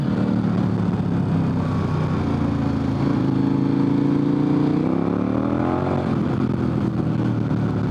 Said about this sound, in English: I can crack the throttle and I get a little bit of wheel spin